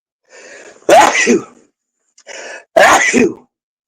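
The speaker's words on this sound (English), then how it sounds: "I'm going to sneeze." Two sneezes in a row, each with a breathy wind-up followed by a loud, sharp burst, close and clear with silence between.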